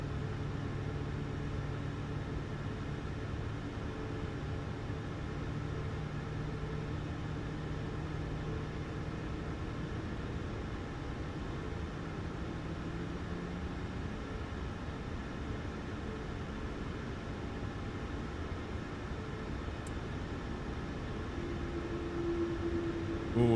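Boeing 737 MAX engines motoring during start in MSFS 2024: a steady, even mechanical whir with low rumble holding for over twenty seconds, rising slightly near the end, with no talking.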